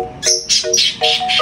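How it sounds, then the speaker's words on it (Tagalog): Pet parakeets chirping up close, a run of loud, bright tweets coming in quick bursts with short gaps between them. "Mga ito ay parakeets."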